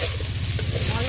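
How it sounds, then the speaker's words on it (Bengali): A paste of ginger, garlic, coriander and cumin sizzles and crackles in a hot pan, a close steady frying hiss with light stirring underneath. "আদা রসুন ধনে জিরে বাটা দিয়ে দিচ্ছি।"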